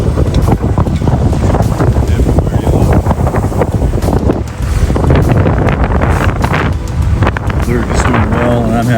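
Strong wind at about 15 knots roars across a sailboat heeling through whitecaps under a double-reefed mainsail off Southeast Alaska, a loud, constant buffeting rush on the microphone that now and then swamps a muffled voice.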